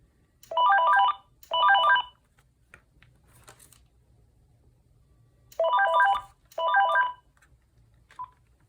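A VTech 5831 5.8GHz DSS cordless phone rings in two double-burst cycles of bright electronic trilling, each burst about half a second long, with quiet pauses between and near silence in the gap.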